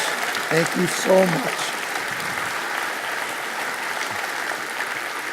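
An audience claps and cheers for an award recipient at a ceremony, steady sustained applause close by with a few brief voices rising over it near the start.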